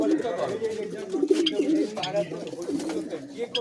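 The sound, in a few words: caged pigeon pairs cooing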